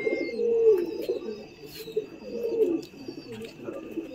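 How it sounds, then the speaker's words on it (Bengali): White-headed pigeons coo in a loft, low throaty rolling calls that repeat and overlap, close and steady, with a faint high hum in the background. "ভাই একটা মুন্ডি সাদা ম্যাচ খেলা পায়রা, মুন্ডি সাদা জোড়া বসিয়েছে।"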